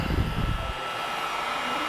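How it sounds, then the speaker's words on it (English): An electrician's heat gun blowing hot air, a steady loud whooshing roar close by, with a rumbling low thump at the start that settles into an even hiss. "It's got to be electrician's heat gun."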